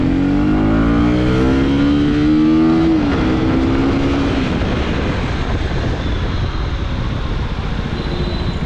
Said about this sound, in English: the new 250cc engine in the KTM lineup, the LC4C engine, is the most refined